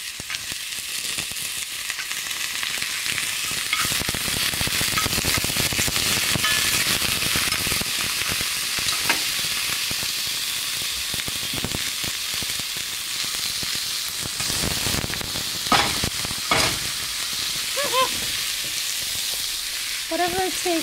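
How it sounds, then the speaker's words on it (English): A third of a sweet pepper hits hot oil in a pot of stewed Spanish beans and sizzles loudly and steadily, with stirring clatter mixed in. "this is about a third of a sweet pepper. I'll toss that in."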